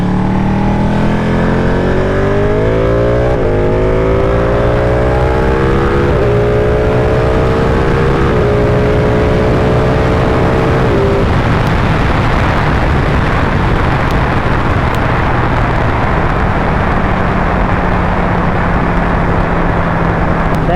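A Ducati 1199 Panigale motorcycle engine revs hard and climbs through several gears on a road ride, each rising whine cut by a shift, then settling into a loud, steady roar with heavy wind rush.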